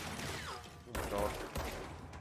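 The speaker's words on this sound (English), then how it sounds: "Stop shooting up the place." Gunfire from the video game Control, a few sharp bursts of shots around the middle of the clip, loud and close, with faint game noise between them.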